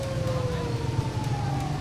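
Ambulance sirens wail steadily and loudly, sliding in pitch, as the ambulances sit stuck in a traffic jam on a flooded Lahore street near a closed underpass, with a constant low rumble of traffic underneath.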